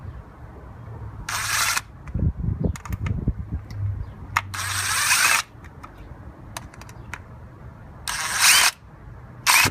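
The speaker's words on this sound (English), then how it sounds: "let's go ahead and remove these 4 bolts" Bolts are being removed by hand from the engine of a 2002 Nissan Sentra 1.8L during a spark plug job. There are several short metallic clicks, scrapes and ratchet-like bursts, close and fairly loud, with quiet gaps between them and no talking.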